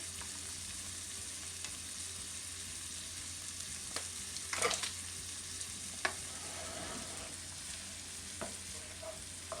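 Corn frying in a pan with salt and pepper, stirred around, giving a quiet steady sizzle with a few scattered clicks and scrapes of a utensil against the pan.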